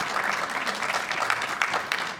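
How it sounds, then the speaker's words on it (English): An audience applauds a couple named Chris and Mary Rayburn at an artist talk, with dense, steady clapping from many hands that continues at an even level throughout. "A little round of applause for Chris and Mary Rayburn."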